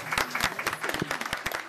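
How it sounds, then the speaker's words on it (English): Audience applause at a county school board meeting, moderately quiet, scattered close claps in an uneven rhythm from a modest crowd. "if we can give a rousing round of applause"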